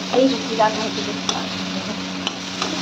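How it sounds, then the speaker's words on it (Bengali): Butter chicken frying over a high gas flame, with a steady close sizzle and a few stirring scrapes of the spoon near the start. "গ্যাসের ফ্লেমটা একটু হাই করে দিয়েছিলাম ভাজা ভাজা করার জন্য।"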